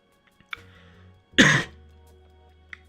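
A single harsh cough bursts out, close and loud, between stretches of near silence with a few faint clicks.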